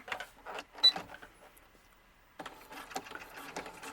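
A worn, heavily used home sewing machine stitches a quarter inch seam in fabric for a doll's hat, with bursts of mechanical whirring that pause midway and then resume, fairly faint and close.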